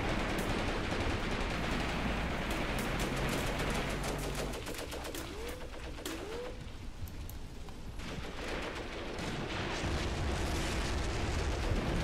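Tank turret fire and battle noise rumble in the Cross of Iron war game, with a dense continuous roar of distant gunfire and explosions, thinning briefly midway before swelling again, with no speech.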